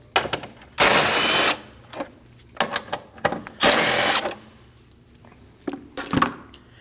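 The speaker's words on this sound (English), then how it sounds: "Using a 10mm socket, take these two bolts out." A 10mm socket ratchet works bolts out of the intake on a 2011-2016 Kia Optima, giving two sustained bursts of rapid clicking with a few short mechanical ticks and clunks between them, close and fairly loud, with no talk.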